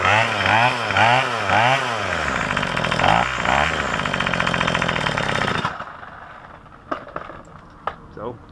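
A Craftsman string trimmer's small two-stroke engine runs during carburetor tuning, warbling up and down in rapid revving surges before cutting out, followed by a few faint clicks and knocks.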